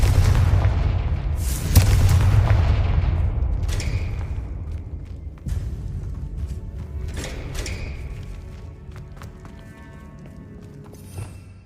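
A Confringo fire spell detonates in Hogwarts Legacy with a loud booming blast, followed by rumbling debris and scattered crackling impacts that slowly fade over several seconds.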